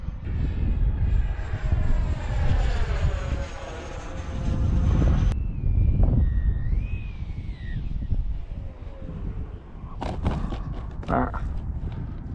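A Sukhoi Su-30 jet roars loudly and steadily, its broad engine rumble with rising and falling whine shifting in pitch as it flies, followed by a few sharp clicks near the end.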